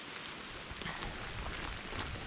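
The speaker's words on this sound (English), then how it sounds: "It's raining" Steady rain hiss on a winter hike in the Sultan River Canyon near Sultan, Washington, a dense, even wash of noise close around with no voices.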